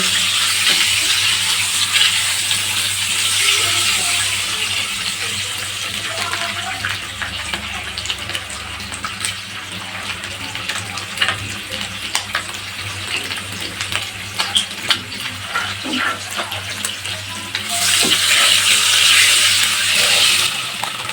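Eggs fry lightly in a pan for an egg biryani. A steady hissing sizzle runs underneath with a low hum, occasional stirring scrapes, and the sizzle swells louder near the end.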